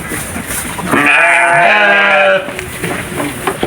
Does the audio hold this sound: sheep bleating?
yes